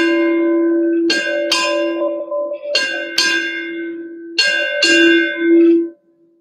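Ship's bell struck eight bells in evenly spaced pairs during a naval change of command ceremony at the Engineering Duty Officer School, each double ding clear and resonant, the ringing sustaining between pairs before cutting off.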